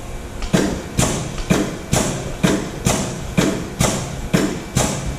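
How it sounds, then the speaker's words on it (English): A full-revolution mechanical press with air-clutch control cycles on a foot switch, giving a steady train of about nine heavy, close thumps at a regular beat over a continuous motor hum. "once you start the motor, you should be able to make a cycle with the foot switch"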